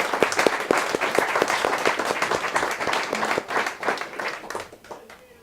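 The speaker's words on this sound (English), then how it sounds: "I'd like to give them a big round of applause." Audience in a room applauding veterans at an evening speaker event, lively close clapping from a sizable crowd that holds steady for about five seconds before starting to thin out.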